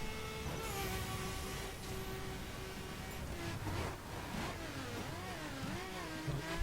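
Ferrari F12 Berlinetta V12 engine accelerating through traffic in The Crew, rising and falling revs with gear shifts, loud and continuous, with faint passing traffic.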